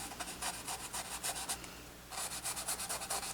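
A paintbrush loaded with magenta and white acrylic paint scrubs back and forth, giving soft, rhythmic bristly rubbing strokes in two bursts separated by a short pause, close and fairly quiet.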